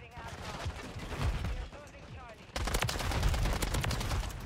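MTZ-762 battle rifle firing in Call of Duty MW3, dense rapid gunfire in continuous bursts, loud and close, growing heavier partway through, with a voice talking over it.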